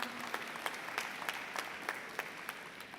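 An audience at a spiritual gathering claps steadily, the applause even and close with no voices over it.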